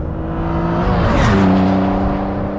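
A Dodge Stealth R/T twin turbo pulls hard in third gear around 3,500 rpm, a loud close engine drone rising and swelling in pitch as it accelerates, heard from inside the car.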